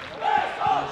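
A rugby crowd in the stands at a Spanish División de Honor match between Independiente Rugby and VRAC applauds and cheers a try, a short burst of massed cheering with a shout rising over it.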